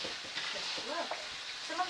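Tomatoes cooking in a pan, a soft steady sizzle and frying hiss with faint stirring scrapes, fairly quiet and close, with no clear talk.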